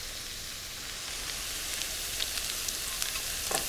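Minced garlic, chopped scallions, mushroom stems and cooked sausage sauteing in a pan, a steady bright sizzle with small pops and crackles growing slightly busier toward the end, with no voices.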